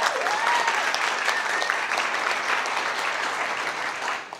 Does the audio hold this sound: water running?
no